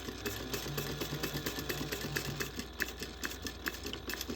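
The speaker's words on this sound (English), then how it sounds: "we're going to sew right on this edge right here first" Sewing machine stitching along the edge of a bag, a fast, even rhythmic whir-and-tap of the needle running steadily, close and moderately quiet, without talk.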